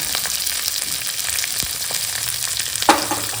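Coarsely chopped onion sizzles steadily in hot oil with cloves, cinnamon and cashews, a continuous crackling fry with one sharper pop near the end, no voices.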